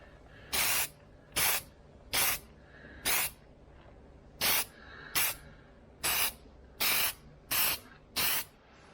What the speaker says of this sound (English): spray a little there.